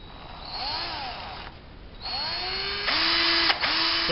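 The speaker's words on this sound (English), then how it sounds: "So I'll drill a hole right here" Power drill boring a hole into a handmade artificial snake bass lure body, whining motor rising in pitch in several short bursts, close and clear, with brief pauses between runs.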